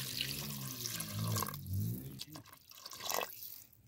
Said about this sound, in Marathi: आता मी 2 तांबी यात पाणी ओतून घेतो.